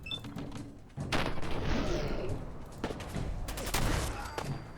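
Turret gunfire in the game Fallout 4, dense rapid bursts of shots and thuds filling most of the clip at a moderate distance, with no talk over it.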